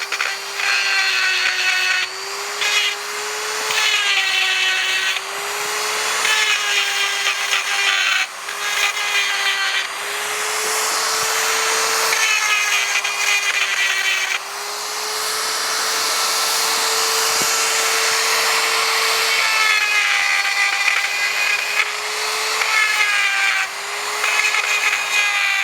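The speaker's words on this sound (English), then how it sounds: "I'm radiusing the inside corner of the eye." Carbide burr in a power tool grinding and radiusing the inside corner of a hand-forged hammer eye, a steady high whine with short bursts and pauses across the whole stretch, close and loud with no talk.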